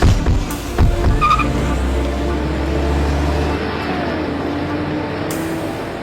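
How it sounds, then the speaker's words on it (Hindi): A car pulls away with a loud, near engine surge and brief tire screech at the start, then a steady low engine drone that fades slightly as it drives off. "गाड़ी निकालो।"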